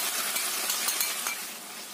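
Sauce stirred in a pan as it simmers and thickens with sautéed onions, a steady broadband sizzle and soft scraping running continuously at moderate volume, with no voices.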